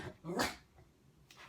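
A pet dog indoors lets out a loud close bark, followed by a quieter yip near the end, with some low noise between.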